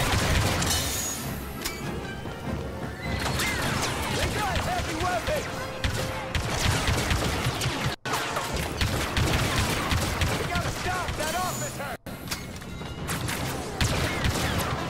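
Gunfire in the video game Star Wars Battlefront 2, dense continuous blaster shots and explosions in a chaotic battle, loud and unbroken throughout with brief gaps.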